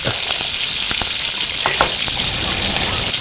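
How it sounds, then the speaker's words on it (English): Four or five medium-hot green chilies fry lightly in oil, giving a loud, continuous, close hiss of sizzling with occasional small pops and crackles throughout. "I'm adding 4 to 5 medium hot green chilies. Just fry them up lightly"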